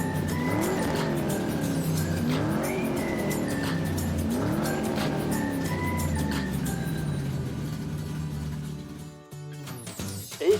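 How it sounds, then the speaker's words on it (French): Engines revving as cars line up in a Cars toy race at the Florida 500, a dense mix of whining, rising and falling engine tones with squealing tires, continuous and fairly loud. "Concurrent, mise en route des moteurs."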